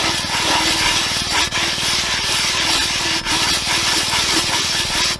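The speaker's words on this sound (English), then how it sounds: "I'm going to sand the rim to make it really smooth." A sanding block rasps loudly over the cured epoxy rim of a glitter tumbler in a steady, fast back-and-forth rhythm that continues without a break, close up and with no talking.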